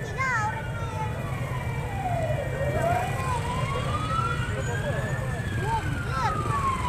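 A fire engine siren passes on a street near a collapsed crane, wailing in slow rising and falling sweeps over steady traffic rumble, with people talking nearby.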